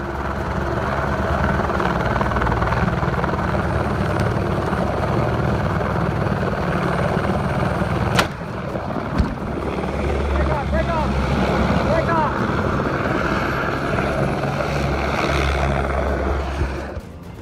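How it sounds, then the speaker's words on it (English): A helicopter hovers near a jagged cliff edge in Utah's Wasatch Range, its blades whirring in a loud, continuous chop with a brief sharp knock partway through, and a voice talking over it. "The helicopter hovered over the recovery spot, its blades whirring just feet from the cliff's jagged edge."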